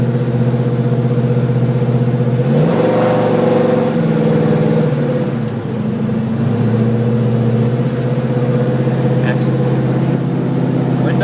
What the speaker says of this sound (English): In second gear right now, so I mean this engine just wants to rip loose